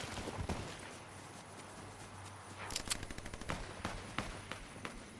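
Gunfire from players shooting at each other in a video game comes as scattered rapid bursts and single shots, fairly faint and distant over a low background.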